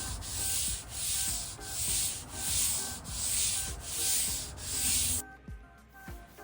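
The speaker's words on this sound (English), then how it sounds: "you're going to lightly sand the entire surface" A fine foam sanding pad is rubbed lightly over a wood finish in steady back-and-forth strokes, about seven even swishes at a close, soft level, and then the rubbing stops.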